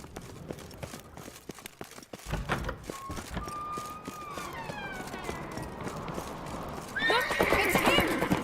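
Horse hooves clip-clop in rapid rhythm during a chase in The Witcher 3, with a neigh and whinny rising midway, and a louder rush of movement near the end.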